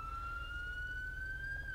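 A police car siren in the video game GTA V wails as a steady, slowly rising tone over a low rumble for the whole stretch, with no talking.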